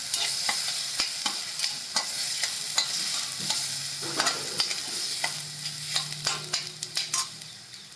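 Masala with turmeric sautéing in a pan for cowpea pod bhaji, continuous close sizzle broken by frequent clacking stirs of a spoon against the pan, quickening toward the end, no voices.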